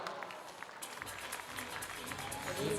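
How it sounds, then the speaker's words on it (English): A crowd applauds climber Domen Skofic at the Rock Master lead climbing final. Steady clapping swells toward the end, with crowd voices mixed in. "Jakob giving Domin a round of applause down on the ground"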